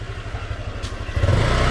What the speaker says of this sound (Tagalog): At pa-experience naman ako ng Yamaha M3 ngayon, guys.